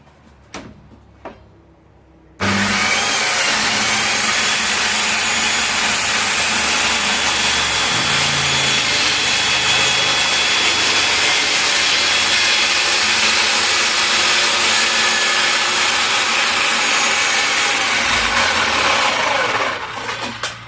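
A power saw cuts wood along a straight edge held down with clamps, starting abruptly with a loud, continuous whine that holds steady for about eighteen seconds before winding down.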